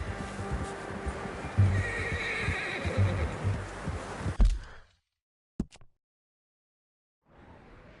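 Horse neighing and whinnying in Red Dead Redemption 2, a loud close whinny over clip-clopping hooves, then a brief snort after a sudden cutoff, a stretch of silence and quiet ambience at the end.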